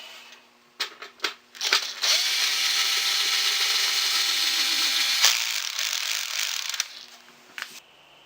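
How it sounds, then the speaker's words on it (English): A power tool whirs loudly for several seconds after a few short bursts, then winds down with brief clicks. "More power tools."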